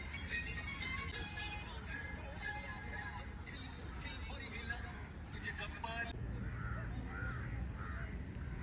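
A large flock of crows gathered at sunset caws in a dense, overlapping chorus for about six seconds, then thins out, with people talking over the birds throughout.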